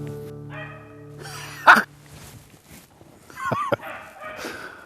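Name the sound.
dog barking during rabbit hunt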